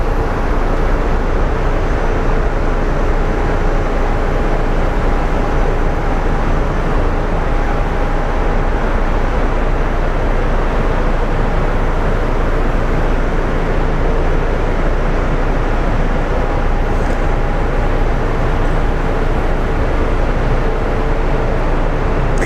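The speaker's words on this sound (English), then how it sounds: "this Southwest is taxiing out" Steady, loud broadband roar of a Southwest airliner taxiing at Phoenix Sky Harbor airport, a constant engine rumble with no talking over it.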